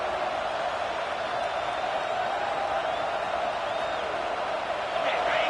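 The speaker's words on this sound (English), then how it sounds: "Listen to this crowd just shaking the girders of this place, trying to help their defense" Stadium crowd at a college football game roars steadily, a dense wash of distant cheering held at an even level throughout with a slight swell at the end.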